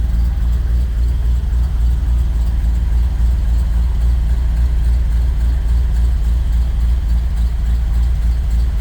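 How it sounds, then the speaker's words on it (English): A truck engine, once hard to start but now starting and idling smoothly, rumbles at a steady, deep idle close by, continuous and unbroken for the whole stretch with no talking over it. "And the truck is running great."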